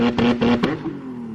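A Nissan 370Z engine revs on launch control, a loud close buzzing drone that pulses through a few quick surges and then settles into a steady hold.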